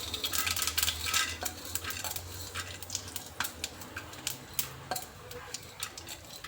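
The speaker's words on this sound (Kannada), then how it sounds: "ಈಗ ಸಾಸಿವೆ ಚಿಟ್ಲುತ್ತಾ ಇದೆ" Mustard seeds spluttering in hot oil while tempering for a radish curd bajji, a quiet run of sharp irregular pops and crackles with faint clinks, no voices.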